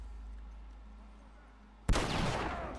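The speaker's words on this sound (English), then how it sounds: "Oh, they're shooting at Ellie." A sudden loud burst of gunfire aimed at Ellie erupts in The Last of Us after a quiet stretch, continuing as dense noisy shots for about a second.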